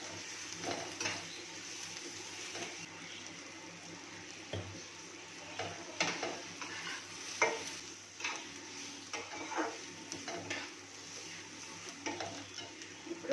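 Water poured into a frying pan while making raw mango upma gives soft, steady sizzling, with occasional stirring scrapes and light clinks of a utensil against the pan.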